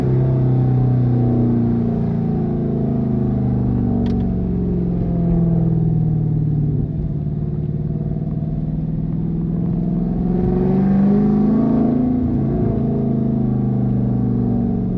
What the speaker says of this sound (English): This how it sound when you walking back to a stage 2 cam vehicle